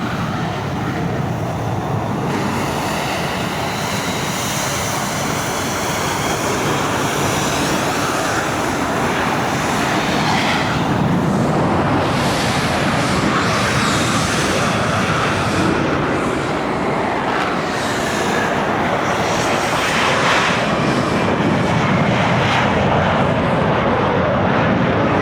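A French Navy Super Étendard jet passes overhead during a D-Day 50th anniversary flypast, a loud, sustained engine roar that swells and fades over about twenty-five seconds.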